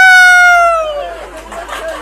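A man imitates a rooster's crow with his voice, a single loud, strained, pitched call that starts strong and then trails off into a breathy, fading finish.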